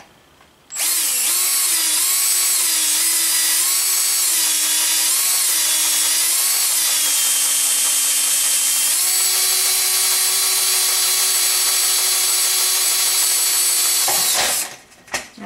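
A power drill bores a hole through a pre-punched dimple, whining loud and steady for about fourteen seconds with a few shifts in pitch under load before it stops.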